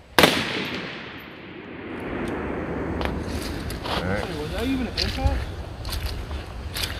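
DMR/SPR rifle shots during outdoor training at a target in front of a rock pile: a sharp, loud crack at the start rolling into a long echoing boom, followed by people talking over steady wind noise.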